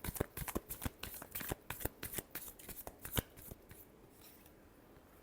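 A deck of cards is shuffled up close in quick, crisp bursts of flicking clicks, fairly quiet overall and tapering off after about three and a half seconds.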